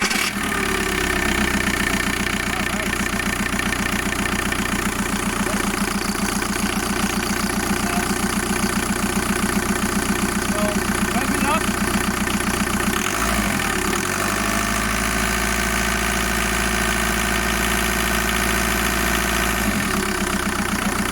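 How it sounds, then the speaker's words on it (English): The 1.9 L ALH turbodiesel of a 2002 VW Jetta TDI idles with a steady, loud diesel clatter and no talk, its low rumble shifting briefly partway through. "Make sure you're in neutral and start the engine."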